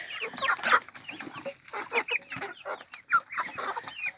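Hens clucking close by, a steady run of short, busy clucks and murmurs with no talking.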